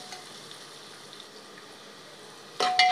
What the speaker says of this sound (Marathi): थोडेसे शेंगदाणे तळून घ्यायचे आहेत